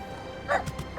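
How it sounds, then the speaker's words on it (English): A Megashiba dog mount in the video game FFXIV gives small, bright barks: a couple of quick yips in close succession, near and clear over a soft background. "let's give him a little bark again"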